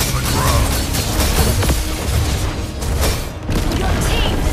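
Turret destruction in Mobile Legends: a heavy, continuous booming blast with crackling debris and dense game effects, loud and sustained throughout with a brief dip near the end.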